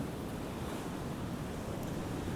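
Waves breaking on Rossall shingle beach at Cleveleys in winter beside stepped sea defences, a continuous broad roar of surf mixed with gusting wind noise on the microphone, with no voices.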